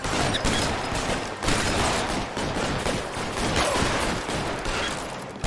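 Dense, sustained gunfire from a shootout in the video game L.A. Noire, with shotgun blasts among rapid overlapping shots and booms filling the whole stretch loudly, no voices.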